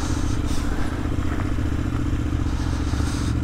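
A Honda Africa Twin 1000 motorcycle drones steadily under load during an off-road trail rally weekend in Occitanie, a continuous engine rumble with faint clatter and scraping from the terrain.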